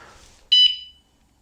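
Short loud electronic chirp of an e-bike's anti-theft alarm arming in lock mode, a bright tonal beep-beep lasting about half a second, close and alone after faint background noise.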